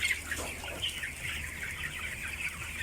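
Chickens cluck and chatter continuously nearby, a busy flock sound with scattered short calls and light background noise.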